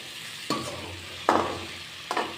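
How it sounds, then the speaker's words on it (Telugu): Sorrel leaves and two green chillies being stirred in a hot pan, with three distinct bursts of sizzling as the spoon turns them, each fading into a steady crackle; close and moderately loud, no talking. "2 పచ్చిమిర్చి, కడిగి పెట్టుకున్న చుక్కకూర వేసి ఉడికించుకోవాలి."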